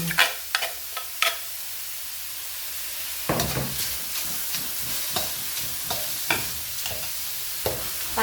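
Pounded Thai curry paste sizzles in a hot pan while a utensil scrapes and stirs, with sharp intermittent clatters against the metal; no talking.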